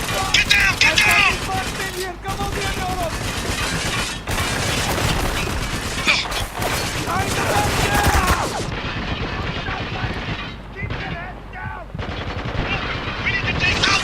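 Sustained machine-gun bursts and rifle gunfire in the war shooter Spec Ops: The Line, dense and loud for the whole stretch, with shouted voices over the combat.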